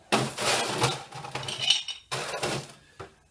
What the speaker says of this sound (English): So let's get some ice.